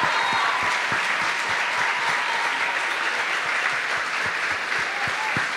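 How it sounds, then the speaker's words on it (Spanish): An audience claps for music students at a year-end concert of reworked classics, a continuous, even wash of applause with a few sharp, distinct claps standing out close by, sustained with no voices over it. "Un aplauso más para los chicos"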